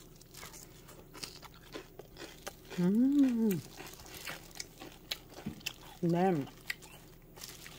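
Crunchy bites of mustard-leaf kimchi (gat kimchi) seasoned with salted shrimp, garlic and sesame salt give crisp, close crunching and chewing, with a voice speaking briefly twice between the bites.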